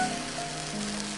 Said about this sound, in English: oh, look at that, sizzle, sizzle, sizzle